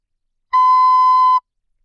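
A recorder sounds a single steady B, a pure whistle-like tone held for just under a second, clear and alone against silence.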